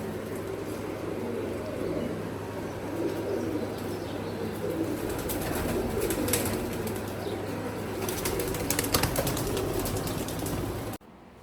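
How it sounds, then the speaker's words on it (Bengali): High-flying pigeons in a flying shed coo and rustle in a continuous, moderately close backdrop, with bursts of wing flapping and chirps near the end. "এখানে যে কবুতরগুলো দেখতে পাচ্ছেন এগুলো সবই আমার বাড়ির হোম ব্রিড বাচ্চা"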